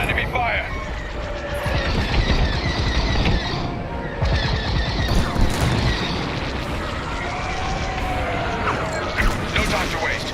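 Dense enemy blaster fire and booming impacts fill a Star Wars: Squadrons space dogfight in VR, loud and continuous with layered engine roar and mechanical whine, while voices talk over the barrage.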